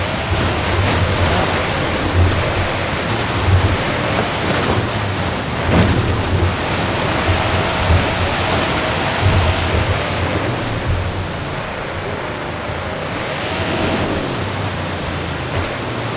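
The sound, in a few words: waterfall in a video game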